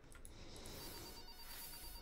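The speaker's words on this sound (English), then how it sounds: "Why does the phone keep ringing" A house telephone rings repeatedly in short bursts, steady and fairly loud, with faint background noise and no talk.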